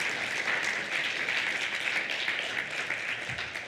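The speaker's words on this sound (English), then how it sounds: "would you acknowledge those in service simply by offering a round of applause?" A church congregation gives a round of applause for the men's group volunteers, sustained crowd clapping that holds steady and eases slightly toward the end.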